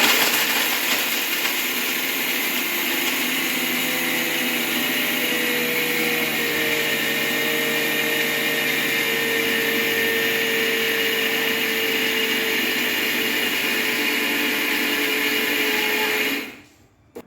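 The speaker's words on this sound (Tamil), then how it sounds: "இப்போ இதை அரைச்சிக்கலாம் மறுபடியும்" A mixer grinder grinds millet laddu ingredients in a home kitchen, a loud steady whirring roar that holds continuously for about sixteen seconds, then cuts off abruptly.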